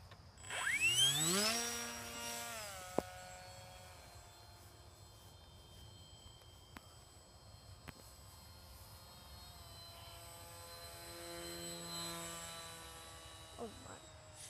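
Depron AeroWing30 model airplane making a slow flyby, a faint motor whine that rises and bends in pitch as it passes, fading into a distant drone before a softer return later.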